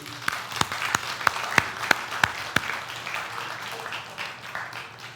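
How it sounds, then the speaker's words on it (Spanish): A church congregation at a Spanish-language worship service claps for the Lord: a few sharp, evenly spaced claps stand out near the microphone over a softer crowd clapping that fades toward the end. "Denle un aplauso al Señor"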